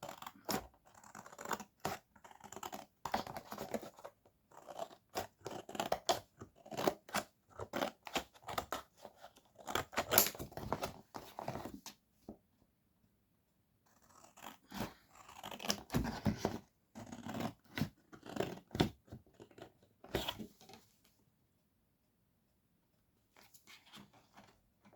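Scissors cut around a piece of acetate card for a crafted split card, a long run of crisp snipping and slicing close by in rapid irregular bursts, with brief pauses and then a few faint final cuts.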